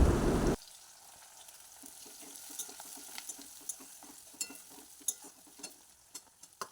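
Onion, garlic and green chilli fry in hot oil in a pan for a home Sunday chicken curry, a steady close sizzle with scattered crackles and pops after a brief loud burst at the very start.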